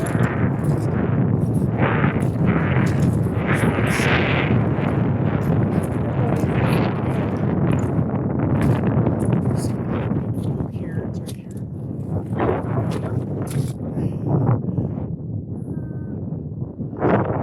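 Strong, steady wind roars and buffets the microphone on a mountain summit at about 14,000 feet on San Luis Peak in Colorado, loud and continuous with rough gusty surges.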